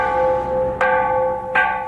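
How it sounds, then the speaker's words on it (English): Buddhist temple bells in Phuket toll for tsunami funerals, two clear resonant strikes about three-quarters of a second apart, each ringing on with a sustained humming tone. "the bells tolled for those lost to the sea."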